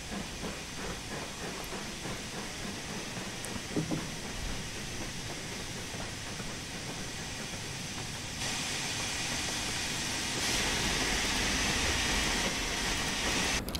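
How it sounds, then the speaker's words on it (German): Steam locomotive in the Train Sim World 3 simulator pushes its train on the Peak Forest line, giving off a steady loud hiss of steam with faint rail rumble that swells stronger in the later seconds. "Und dann schieben wir jetzt den Zug."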